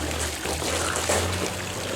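Pool water pumped up onto a roof solar heating system during pool opening, a steady trickling, gurgling flow with a low pump hum underneath.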